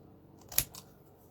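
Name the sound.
scissors cutting paper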